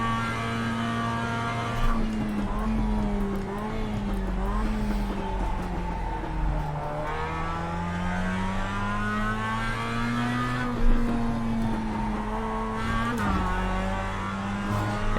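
A Mazda race car in the iRacing sim, Mazda Rookies series at Okayama, drones continuously, its engine note rising and falling through shifts and revs with no talk over it.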